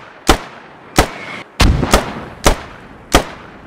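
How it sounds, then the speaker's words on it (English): Mortar rounds firing in the Squad military shooter game, six loud booming impacts spaced roughly half a second to a second apart, each with a sharp crack and rumbling tail. "Oh my god, chill on the fucking mortars"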